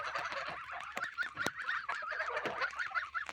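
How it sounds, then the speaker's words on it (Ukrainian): A flock of geese honks repeatedly in quick, overlapping calls, fairly close, with sharp cackles rising above the chatter. "Гуси не дають нічого сказати"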